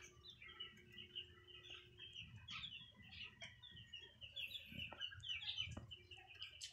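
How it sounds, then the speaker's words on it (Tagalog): Small chicks on a little backyard farm peep in a steady stream of high, thin chirps, with adult chickens clucking lower underneath, close by and continuous. "Sisiw oh."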